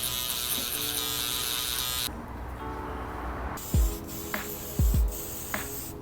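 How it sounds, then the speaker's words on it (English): A Gamma Uno single foil electric shaver buzzes steadily close to the mic during a haircut, then cuts to quieter passes with a few short knocks and bumps as it moves over the head. "we're gonna go in with our single foil shaver by Gamma Uno"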